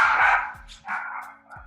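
Dog barking three or four times in quick succession, loud and close indoors, with short sharp yips fading at the end.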